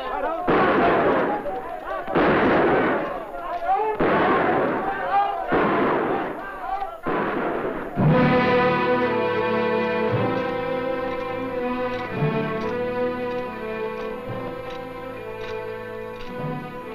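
Gunfire during an attack on a police station in a Mexican western, five heavy booming shots in steady succession, followed by a loud dense volley blending with dramatic music.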